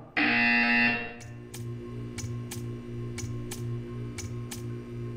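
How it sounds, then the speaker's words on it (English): A loud, steady electronic buzzer tone from the game Portal 2 sounds for about a second during an art-staring test, followed by a series of sharp, evenly spaced ticking clicks over a low mechanical hum. "You will hear a buzzer."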